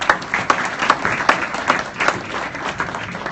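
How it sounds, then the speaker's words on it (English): Applause from a room of boxing writers at a dinner, dense and fairly loud clapping with sharp individual claps standing out, steady through the whole stretch. "you gotta give yourself a round of applause."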